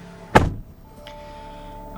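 A single solid thunk of a car door shutting nearby, followed by a quiet cabin hum and a faint chime.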